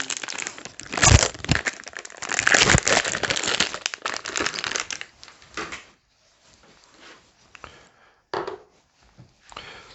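Plastic packaging crinkles and rustles as a syringe for priming sugar is unwrapped during homebrewing of a stout, a close busy crackle for several seconds that thins into sparse faint rustles and a couple of short bursts.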